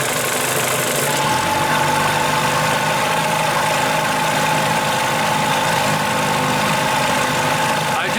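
An Evinrude 40 outboard motor runs steadily and loudly throughout, a constant droning engine with a faint whine, alone without talk.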